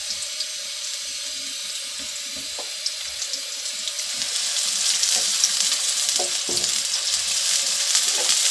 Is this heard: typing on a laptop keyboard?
no